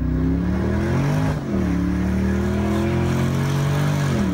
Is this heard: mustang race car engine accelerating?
yes